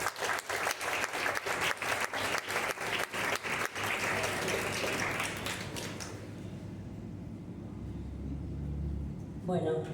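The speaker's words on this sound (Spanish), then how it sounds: "Empecemos con un aplauso porque se lo merece." An audience at a book presentation claps, opening with loud, distinct individual claps in a quick rhythm that thin out and fade after about six seconds into quieter room rumble and low murmur.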